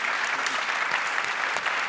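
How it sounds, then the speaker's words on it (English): Audience applause after a panel discussion on presidential elections and democracy, a steady, dense burst of clapping from a crowd filling the room, loud and continuous with no pauses. "Round of applause for these folks, please."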